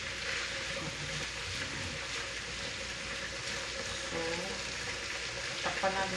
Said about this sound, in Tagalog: Haluin lang natin para